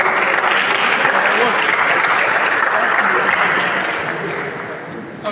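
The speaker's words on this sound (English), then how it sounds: "So a round of applause for Efumsa." Sustained audience applause fills a hall at a medical school quiz competition final, loud and even at first and then tapering off toward the end.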